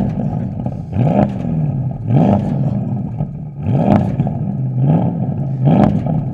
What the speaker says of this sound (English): Let's take a listen of how this car sounds.